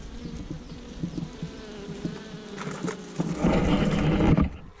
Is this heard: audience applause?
no